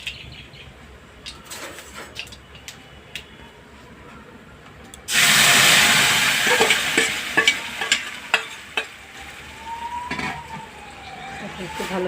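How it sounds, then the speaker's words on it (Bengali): Mustard seeds crackle quietly in a pan with light stirring, then grated tomato goes in for a tomato chutney and a sudden loud, close sizzle erupts, settling into bubbling frying with spatula scrapes and clicks. "সর্ষেটা একটু ভাজা হলে আমি টমেটোটা দিয়ে দেবো।"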